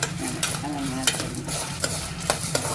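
Dal and coconut are stirred and dry-roasted in a pan for a chammanthy, giving a steady gritty sizzle with repeated scraping strokes of the spoon at an irregular rhythm, close and fairly loud with no talk.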